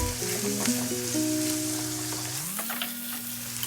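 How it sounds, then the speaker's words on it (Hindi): Curry leaves frying in a pan until they turn brown, giving a steady hissing sizzle throughout. Soft melodic background music plays underneath, and no one speaks. "इसको अभी ब्राउन कलर आने तक मैं फ्राई करूंगी।"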